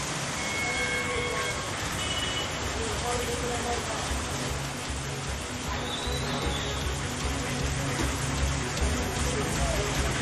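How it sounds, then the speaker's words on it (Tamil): Heavy rain pours down in Ambasamudram, Tamil Nadu, a dense, steady roar of falling water that holds at an even, loud level for the whole stretch with no breaks. "அம்பாசமுத்திரம், கல்லிடைக்குறிச்சி உள்ளிட்ட சுற்றுவட்டார பகுதிகளில் கனமழை பெய்து வருகிறது."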